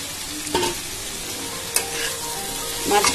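Fried mourala fish tipped into a pan of simmering tomato and potato for a Bengali jhal, with a few distinct scraping stirs and clinks of the spatula over a low steady sizzle.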